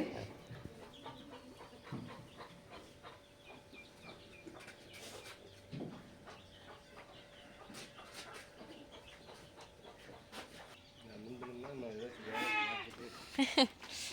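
Sheep bleat at feeding time while being given new fodder, with faint bleats early and a louder, nearer cluster of calls toward the end, alongside people talking and other farm background noise.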